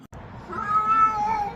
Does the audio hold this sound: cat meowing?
yes